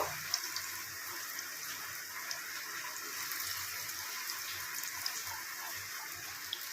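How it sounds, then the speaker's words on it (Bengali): Drumstick-leaf pakoras sizzle gently after being dropped into hot mustard oil, giving a soft, steady hiss with faint crackles throughout, fairly quiet and without voices. "এরপর এর মধ্যে দিয়ে দেবো এই সজনে পাতার পকোড়াগুলোকে করে নিয়ে এইভাবে গরম তেলের মধ্যে ছেড়ে দেব।"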